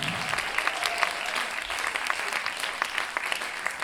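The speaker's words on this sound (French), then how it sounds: "On applaudit la poésie de Joachim," An audience at a Lyon slam poetry tournament applauds a poet, dense steady clapping from a sizable crowd throughout, fairly loud and without any break.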